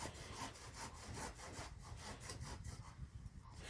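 Hand saw cutting through wood outdoors, a steady run of rough back-and-forth rasping strokes, close and loud, with no voices over it.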